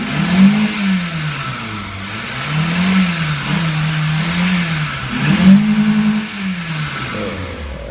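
A four-cylinder car engine runs in a garage, rising and falling through several revs over a steady mid-pitched drone, loud and close with no talking.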